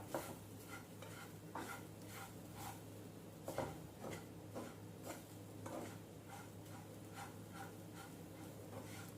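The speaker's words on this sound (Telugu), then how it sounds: "ఉండలు లేకుండా అయ్యేదాకా మనం దీన్ని వేయించుకోవాలి ఇలా నలుపుతూ ఇలా" A metal spoon stirs and presses grated carrot as it roasts in a pan for carrot laddu. Steady, rhythmic scraping strokes repeat up close over a faint low sizzle, with no talking.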